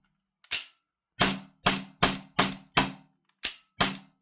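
A CTM AAP-01 airsoft pistol built on a FUKU-2 kit fires seven sharp, snappy shots close up, each with a quick bolt-cycling clack, spaced irregularly with a run of fast shots in the middle.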